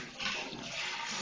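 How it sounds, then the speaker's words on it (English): Toilet flushing in a hotel bathroom, a loud close rush of water that surges and keeps roaring steadily to the end, alone without voices. "Ooh, that's flushing."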